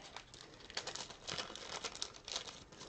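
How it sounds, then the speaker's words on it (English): A trading card is slid into a thin plastic sleeve, giving soft crinkling and rustling of plastic close by, in several small bursts over a few seconds with no talking. "let me get this in a sleeve so I can write on it"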